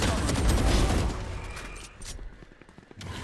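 Valorant gunfire in a heavy burst of rapid shots for about a second, then quieter scattered pops and clicks trailing off.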